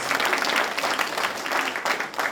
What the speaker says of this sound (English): Let us give Dr. another round of applause,